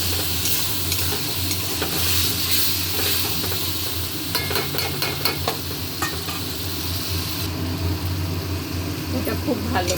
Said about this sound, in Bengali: এটা খুব ভালো করে কষাচ্ছি।